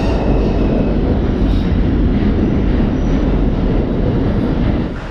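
New York City subway train approaching a platform, a loud, steady rumbling roar of rail and wheel noise that fills the whole stretch and eases slightly at the end, with no talk.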